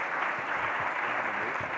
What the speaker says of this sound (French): je vous demande d'applaudir Lisa